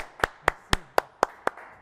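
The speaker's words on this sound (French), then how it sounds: "Maintenant, applaudissements pour Laurent Conquet," Six slow, evenly spaced hand claps ring out sharply and close in an otherwise quiet room on a television show. The clapping sounds more like one person than a full audience.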